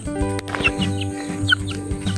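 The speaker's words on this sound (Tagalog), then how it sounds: "Kaya naghuli kami ng manok." Chickens clucking close by in a mountain setting, a run of short, choppy clucks and squawks over a steady background hum, with no voices heard.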